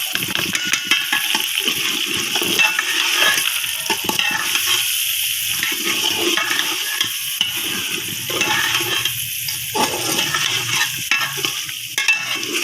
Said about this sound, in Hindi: अब अच्छे तरीके से ये सब कुछ फ्राई करना है।